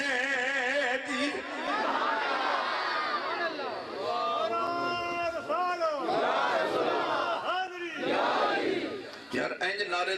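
A large gathering at an Islamic religious sermon shouting slogans back in unison, loud sustained massed voices rising and falling in waves, with chanting calls throughout.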